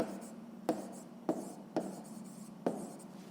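A pen writes out an answer during a sixth-grade maths lesson, scratching steadily across paper close by, with four sharp taps where the pen strikes or lifts at regular intervals.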